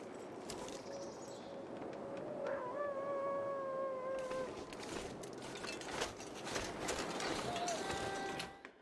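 In the video game The Long Dark, wolves howl in the distance, several long wavering tones that overlap and rise against a wind-like background hiss, with a short yip near the end.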